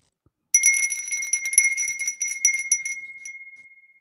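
A small hand bell rings in quick repeated jingling strokes after a brief silence, bright and close, then its last tone rings out and fades away alone.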